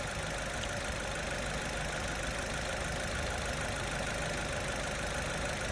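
A nearly new Suzuki car with about 15,000 km on it idles on a steady, even engine drone, a constant moderate hum with no talk.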